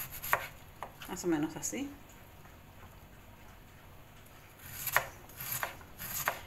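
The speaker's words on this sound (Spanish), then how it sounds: "vamos a picar nuestra col, así julianas finas" Knife chopping cabbage into fine julienne strips for chicken tinga, a brief burst of quick cutting strokes at the start and a few more near the end, with a short stretch of talk in between.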